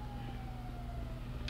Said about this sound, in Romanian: Aia e salvare, mă, nebunule.